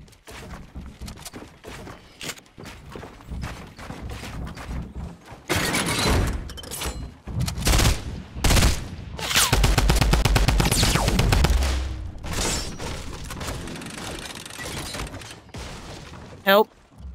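Semi-automatic gunfire sounds in a Fortnite Battle Royale match, with loud bursts of shots and impacts spread through the stretch, some clustered rapidly, mixed with other game effects and people talking.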